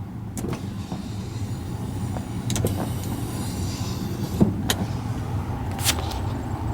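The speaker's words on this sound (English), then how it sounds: "Power sliding rear window." The power sliding rear window of a 2011 Ford F150 Lariat moves with a low, steady motor hum inside the cab, broken by a few sharp clicks and clunks.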